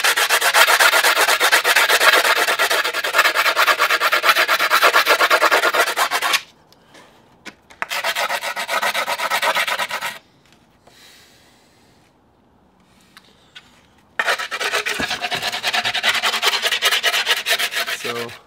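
Rapid, rough scraping rubs at the edge of skateboard grip tape in loud, steady bursts, separated by two quiet pauses with faint handling noises.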